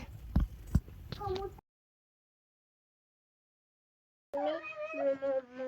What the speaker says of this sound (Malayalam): ഇതാണ് മാന്തുന്ന പൂച്ച